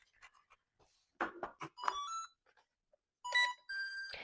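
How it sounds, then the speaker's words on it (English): A toy drone and its controller pair with a short series of electronic beeps. Quiet clicks and handling noises are followed by several bright, clear tonal beeps close to the microphone. "you're going to have to go up and down with this left joystick to hear the 2 beeps to get them to connect"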